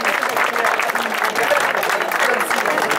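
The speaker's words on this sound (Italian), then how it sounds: "un applauso per la famiglia, soprattutto un applauso, un ricordo per Roberta" A crowd claps warmly at an outdoor awards ceremony for a women's running race in San Severo. The applause is loud, dense and sustained, with voices mixed in.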